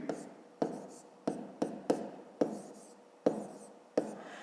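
Numbers being written by hand during a fifth-grade math lesson: a series of sharp pen or chalk taps and strokes, roughly eight distinct impacts spaced unevenly, close and fairly quiet, with no talking.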